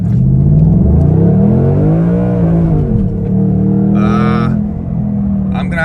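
A 2021 Ford Mustang Mach 1 accelerates off the line, its loud, close engine note climbing and falling through gear changes with a deep rumble, plus brief high whines near the end.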